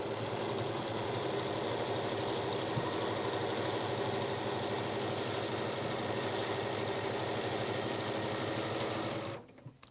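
A sewing machine stitches quilt binding along a cut quilt edge, with a steady, close, continuous mechanical whir and fast needle rhythm that holds for nearly ten seconds and then abruptly stops.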